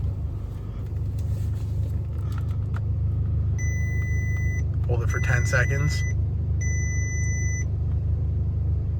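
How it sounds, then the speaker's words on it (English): A 2013 VW Tiguan's car computer gives a few evenly spaced electronic beeps while the steering wheel is held at full lock, over a steady idling engine rumble, with someone speaking briefly between beeps. "It should beep."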